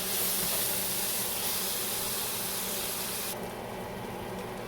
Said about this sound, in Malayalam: ഗീനകത്ത് നമ്മുടെ കടലപ്പരിപ്പ് കുറച്ച് നേരം ഒരു 15-20 മിനിറ്റോളം നമ്മളൊന്ന് വഴറ്റിയെടുക്കണം